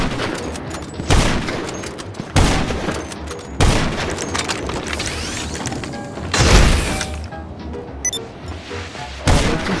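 Rockets fired over and over in a video game, each launch a loud booming blast landing roughly every one to three seconds over a constant rumble of gunfire and explosions.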